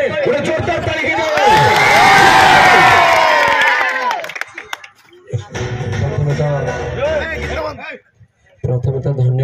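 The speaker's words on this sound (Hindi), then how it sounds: "गोटे जोरदार ताली के" At a cricket tournament prize ceremony, a crowd erupts in loud cheering and shouting, then the noise fades into scattered clapping and chatter with voices talking nearby.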